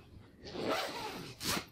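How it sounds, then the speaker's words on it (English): A Magellan budget sleeping bag zipper is pulled closed, giving one continuous rasping zip that starts at about half a second and runs without a pause, then a second short, loud burst near the end. "Zip it up, zip it up, zip it up, zip it up. Just go all the way up."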